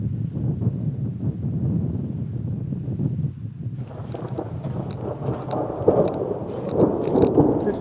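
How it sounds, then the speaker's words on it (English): Thunder from a thunderstorm in the High Sierra mountains near Piute Pass, a long deep rolling rumble that fills the whole span, with rain and wind noise over the microphone growing in the second half, no talk. "Obviously the thunderclouds have moved in."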